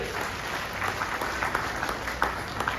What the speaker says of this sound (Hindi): एक बार जोरदार ताली सभी के लिए बजना चाहिए।